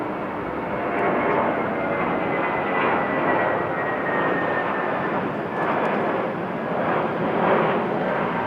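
A Jetstar airliner takes off at Sydney airport, its engines giving a loud, steady, broadband roar that swells and eases gently throughout without pause.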